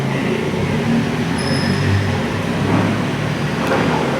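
Vehicles pull away at night from a housing society, a loud continuous rumble of engines and road noise rising and fading over several seconds without speech.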